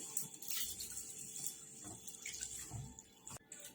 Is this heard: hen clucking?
no